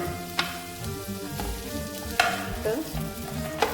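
Chopped beans sizzle and crackle steadily in hot sunflower oil, close and loud, with a few sharp scrapes as the pan is stirred.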